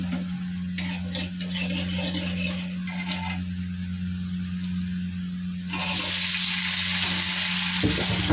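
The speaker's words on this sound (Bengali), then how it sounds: "কড়ার মধ্যে আমি সাদা জিরে দিয়ে দিয়েছি" Whole spices and white cumin sizzle in hot oil in a wok, with a steady crackling fry and brief scraping or stirring bursts, loud and close with no voices.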